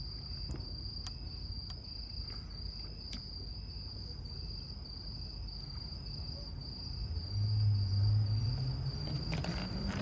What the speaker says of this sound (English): Yeah, sound of crickets.